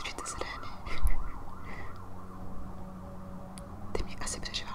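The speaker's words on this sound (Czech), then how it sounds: "Venku asi slyšíte sirény." Faint emergency sirens wail outside in rising and falling sweeps, distant and steady beneath a close, soft whispering voice indoors.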